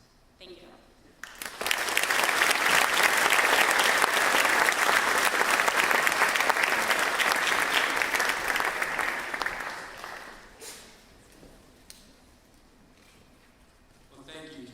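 Audience applause after a graduation speech at a graduate school commencement ceremony, a dense, steady crowd clapping that swells quickly, holds loud for about eight seconds, then tapers off into scattered claps and quiet room noise.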